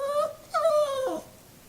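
A nervous dog at a veterinary clinic lets out two short, high, whining whimpers, the second longer and falling in pitch, close and clear with no talk.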